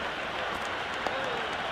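Stadium crowd noise from the cricket video game Cricket 26, a steady dense roar of cheering spectators filling the whole clip, with a brief sharper burst near the end.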